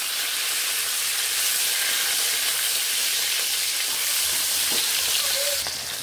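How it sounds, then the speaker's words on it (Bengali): Tomato added to hot oil with whole garam masala, cardamom and cinnamon produces a dense, continuous close sizzle, with a faint clink of stirring near the end. "এবার আমি এখানে টমেটোটাকে দিয়ে নিচ্ছি।"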